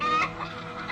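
Chickens cluck in short, busy bursts, close and steady over a brief moment with no talk.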